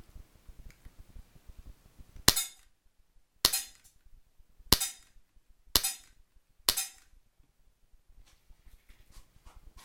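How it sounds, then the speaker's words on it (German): Five sharp snapping shots from an H&K USP airsoft pistol firing large pellets crack out at irregular intervals against a quiet background, with a few faint ticks afterward. "Das waren die Schuss mit den größten Kugeln"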